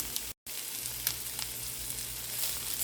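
Grated potatoes frying in a pan, a steady close sizzle with small crackles, briefly cut off for a moment near the start, then continuing evenly without talk.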